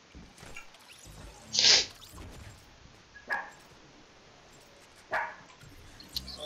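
A dog gives three short, sharp barks or yips spread across the stretch, the first the loudest, against a quiet background.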